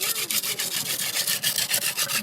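Dry river cane is spun to core-drill a bow, giving a rhythmic squeaky rubbing that repeats in quick back-and-forth strokes, close and fairly loud, with no talking.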